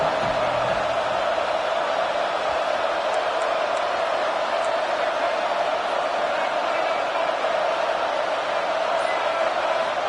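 A stadium crowd in an NCAA college football video game roars as a steady, loud, continuous wash of cheering noise for a third-down play, with no breaks.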